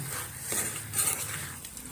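Potatoes and local chicken fry in a pan with a steady close hiss of sizzling oil and faint clinks of a utensil against the pan, without any speech.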